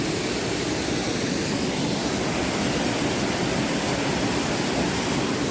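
Rushing river water in the Pekel gorge of Slovenia roars as a steady, loud, broadband rush with no pauses, close by and alone with no voices.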